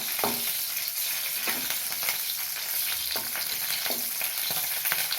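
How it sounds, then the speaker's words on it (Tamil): Steady crackling sizzle of green chillies frying in hot oil, with occasional sharper pops and stirring clatter throughout. "எண்ணெய் காயட்டும் ஆறு பச்சை மிளகா சீரி வச்சு போட்டுக்கிறேன்"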